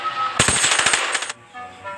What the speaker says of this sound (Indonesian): Chaos pun mencoba senjata tersebut dengan menembak anak buahnya